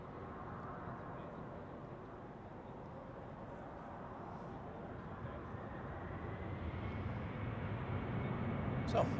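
A jet aircraft vacating the runway at Zurich Airport, a distant low engine rumble and broad hiss that grows gradually louder toward the end, with a voice talking faintly over it.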